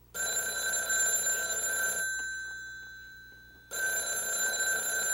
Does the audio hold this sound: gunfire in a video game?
no